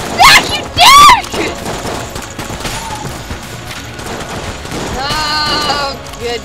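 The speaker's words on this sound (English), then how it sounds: "He's got a Tommy gun!" Tommy gun fire from the video game Enter the Gungeon rattles along in the background, largely buried under loud, excited shouting from players.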